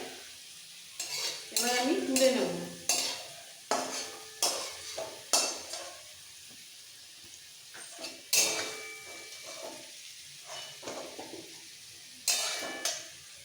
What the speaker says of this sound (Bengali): আলু খুব ভালো করে ভাজা হয়ে গেছে